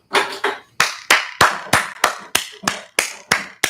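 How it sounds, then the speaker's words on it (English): A person claps their hands about a dozen times in front of a webcam, sharp, close and evenly paced slaps in a steady rhythm. "go up to the webcam and clap your hands"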